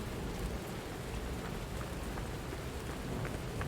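Steady rain effect in Lies of P, a dense continuous hiss of falling rain with scattered droplet ticks, even and unbroken, heard alone without voices.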